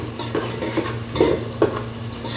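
White pork adobo, seasoned with salt and vinegar, sizzles steadily in a pan while a utensil stirs and scrapes it, with a few soft clinks and scrapes rising over the constant frying hiss.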